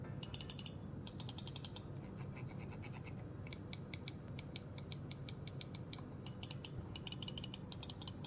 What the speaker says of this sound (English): Now let's hear how the mouse sounds.